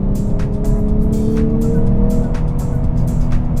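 The 3.5-liter naturally aspirated V6 of a 2022 Lexus IS sings out with a steady, smooth engine note, sustained and fairly loud with a low, even hum and no talking over it.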